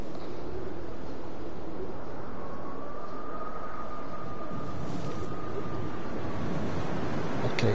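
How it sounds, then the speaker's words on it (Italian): Wind whistles through the video game Dear Esther, a broad steady rush with a thin sustained whine that rises midway and lingers, with no voices over it. "È il vento che sibila,"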